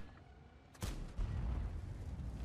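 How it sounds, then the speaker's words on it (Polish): A tank cannon fires in the World of Tanks video game, one sudden booming blast followed by a rolling rumble, heard fairly quietly within the game soundtrack. "No ten strzał był zajebisty, Harry."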